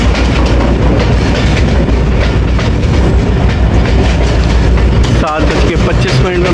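A Pakistani 2 Down shuttle passenger train runs on rails between Lala Musa and Sargodha, a loud, close, continuous rumble with rhythmic clatter and a brief squeal near the end.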